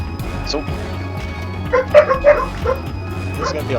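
Dogs in the game Vintage Story give a few short yips and whimpers over a steady low background hum, with a voice talking over them.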